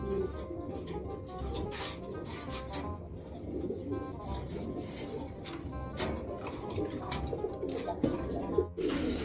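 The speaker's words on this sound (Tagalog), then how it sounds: "Ito na yung request mo na ibon." A pigeon, offspring of the cock Javier Clacker, coos repeatedly amid a dense, noisy background of other birds and ambient clatter in a loft.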